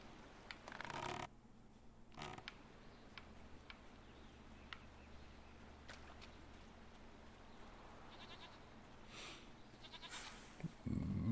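Goat bleating in the video game Jade Empire, a short bleat near the start and another shortly after, fairly faint over quiet ambient game sound with light ticking.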